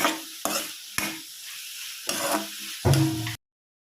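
Turmeric and salt being mixed into bottle gourd curry in a pan, heard as several bursts of stirring and scraping with a soft sizzle underneath, each separated by brief pauses, ending abruptly.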